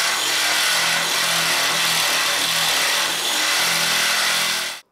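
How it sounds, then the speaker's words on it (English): A Black & Decker jigsaw cuts holes in a front panel sheet, a loud, steady buzzing rasp of the reciprocating blade running continuously and alone before stopping abruptly at the end. "For that I used the Black & Decker jigsaw"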